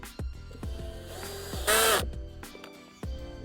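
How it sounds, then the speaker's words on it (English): A power drill drives a screw into wood while a raised garden bed is being built, giving a short, loud whirring burst between sharp knocks and taps from nearby handling. "Let's go ahead and put this screw in."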